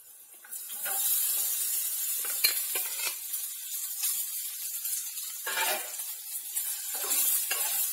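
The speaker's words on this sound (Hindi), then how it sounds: "इसे भी थोड़ा सा तल लेते हैं हम।" Cut pieces of boiled potato fry in hot oil in a pan for sabudana khichdi, a bright crackling sizzle with intermittent scraping stirs and bursts of louder spitting, close up and with no talking.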